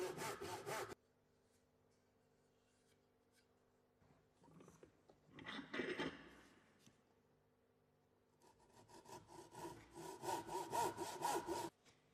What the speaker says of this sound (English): placing the timber vertically in the vise to follow the saw cuts down to the shoulder lines